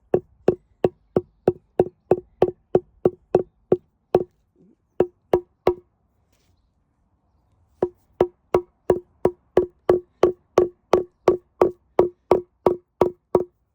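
Rapid, evenly spaced hammer taps strike Herb Robert leaves onto fabric close by, a long run of blows, a brief pause, a few more, a longer gap, then another steady series.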